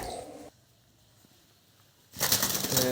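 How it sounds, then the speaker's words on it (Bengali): A bird trapped indoors flaps against a closed window in two bursts of rapid, noisy wing flapping, close and fairly loud, separated by near silence; the second burst is stronger and lasts longer. "আজ ঘরে একটি পাখি আটকা পড়েছিল জানালা খোলা ভেবে বারবার আঘাত পাচ্ছিল"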